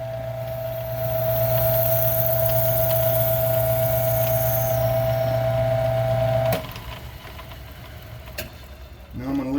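A power tool cutting a groove into a pro-stock pulling tire, a steady loud droning whine for several seconds that stops abruptly, leaving quiet scrapes and shuffles.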